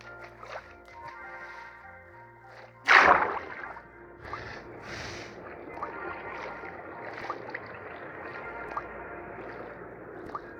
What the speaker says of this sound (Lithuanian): Ir aš paskui plaukiau su savo valtim, kovojau su vandens krantai.